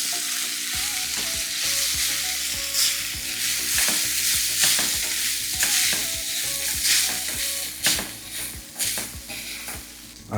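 Grated suran (elephant foot yam) stirs and fries in oil with cumin and green chilli, giving a steady close sizzle broken by scraping stirs in the pan, with no talking.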